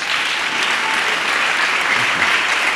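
A church congregation applauding, dense, sustained clapping from many hands filling the space evenly for a few seconds.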